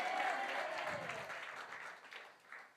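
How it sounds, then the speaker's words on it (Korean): A church congregation applauds during a Sunday morning worship service, a broad wash of clapping that starts full and gradually thins out over a few seconds, with faint voices mixed in. "박수"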